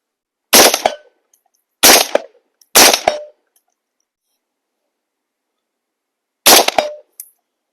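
Four sharp rifle shots at a 100-metre range crack out alone, three in quick succession followed by a pause and a fourth, each ending with a brief echo.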